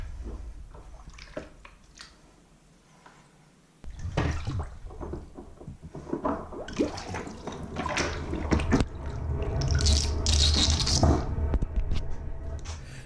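Water draining from a newly built tile shower pan during a bathroom renovation, a steady gurgling, sloshing wash that grows louder and fuller partway through, close and continuous.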